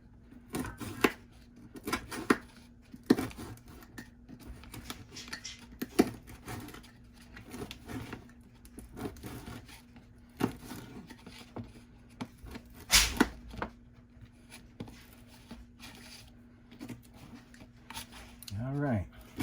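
Leftover breakfast bacon is cut up on a board in a series of soft, irregular chopping and slicing taps, close and fairly quiet, with a faint background hum and some talk.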